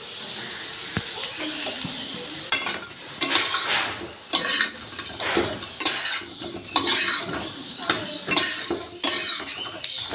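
Deep-fried fritters being lifted one by one from a pan, with repeated metal scraping and clinks of a slotted spoon against the pan over a soft bubbling of oil, in irregular bursts up close.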